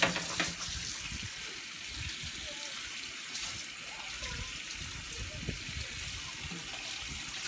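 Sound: water running from a tap while rinsing dishes

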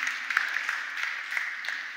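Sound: church congregation applause

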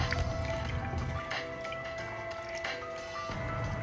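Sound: water poured into a handheld steam cleaner

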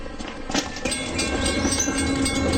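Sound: train passing

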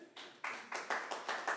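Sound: audience clapping for a student

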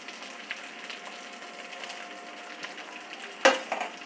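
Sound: curry leaves frying in oil

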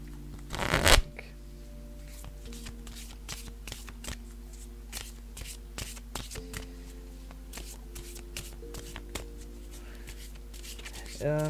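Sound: shuffling tarot cards for a card reading

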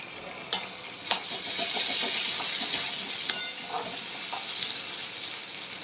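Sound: frying onions with ginger garlic paste

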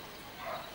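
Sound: dog barking

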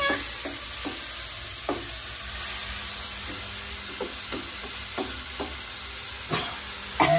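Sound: stir-frying holy basil (pad kaprao) in a wok

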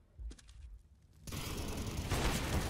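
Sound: gunshots in video game Counter-Strike: Global Offensive

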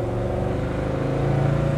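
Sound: classic car engine running

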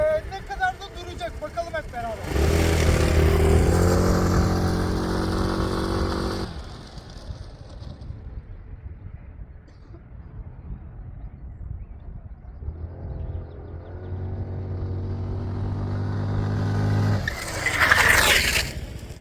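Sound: scooter accelerating then braking with the rear brake

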